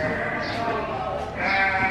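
Sheep bleat at Odds Farm, two drawn-out nasal cries close by, heard alongside people talking.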